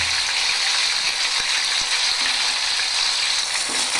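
Onion paste frying in hot white oil for chana masala, a loud constant hiss and crackle filling the whole stretch, with a couple of faint knocks of a spoon, close up and without speech.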